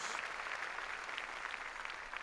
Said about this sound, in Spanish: Démosle palmas fuertes ahí a nuestro Señor.